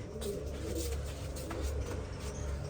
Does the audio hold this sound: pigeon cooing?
yes